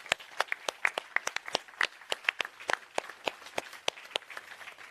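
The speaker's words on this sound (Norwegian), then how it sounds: "Jeg synes vi skal gi deg en applaus der." A small audience at a panel discussion on eating disorders gives sparse applause, distinct individual claps in an irregular patter, fairly close and clear, with no talking over it.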